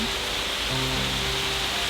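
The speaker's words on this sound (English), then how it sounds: "Sunny and rainy and I'm not even getting wet." Rain falls steadily on a narrowboat, a dense, even hiss of drops drumming on the roof that stays close and constant throughout, with a faint low tone underneath and no talking.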